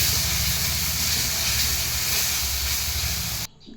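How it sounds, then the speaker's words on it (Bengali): Spice paste for a pakal fish curry fries in hot oil with a dense, steady sizzle close by, holding at an even loudness before cutting off abruptly near the end. "ভালো করে মশলাটাকে আমি কষিয়ে নেব।"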